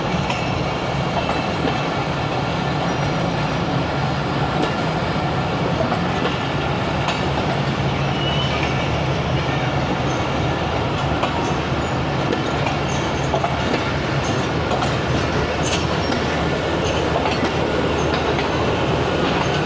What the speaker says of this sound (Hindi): अब ये जा रही है महर एक्सप्रेस 127 अप, नहीं सॉरी